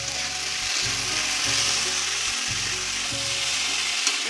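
Cumin and turmeric powder with salt frying in a pan for dal puri filling, stirred steadily, a close, continuous sizzle with soft scraping strokes.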